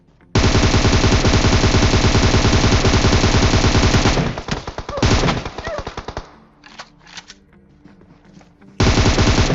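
Rapid automatic gunfire in a battle royale shooter game, a loud, dense burst of repeated shots lasting several seconds, then scattered single shots and clatter before another sustained volley starts at the end.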